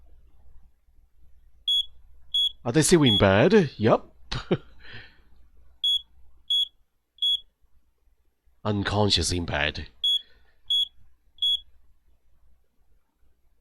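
Alarm in the video game Dark Nights With Poe And Munro, sharp high electronic beeps in regular groups of three, clear and repeated between stretches of two people talking.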